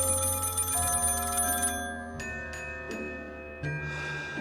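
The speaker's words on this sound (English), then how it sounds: "The telephone in the corner of Maria's house rang out repeatedly" Telephone in the corner of a house ringing with a bright, sustained bell tone that breaks into several short repeated rings, heard alone and moderately close.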